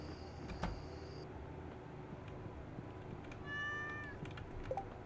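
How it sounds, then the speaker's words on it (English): A pet cat meows indoors at close range, a couple of short calls, with soft background hum and a faint higher tone. "This is my cat."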